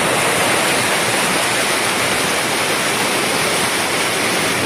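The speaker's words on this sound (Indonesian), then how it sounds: "Jadi ini air dari tambak keluar di sungai." Water from a tiger prawn pond pouring out into a river during a harvest, a steady, loud broadband rush like a small waterfall, constant throughout with no talk.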